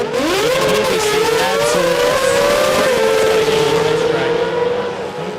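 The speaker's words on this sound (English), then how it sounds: "The RX-8 with the 20B, naturally aspirated 20B. You can hear this thing" Mazda RX-8 fitted with a naturally aspirated 20B rotary engine at a sports compact drag racing qualifying event, a loud sustained rising engine howl as it accelerates down the strip, with a commentator talking over it.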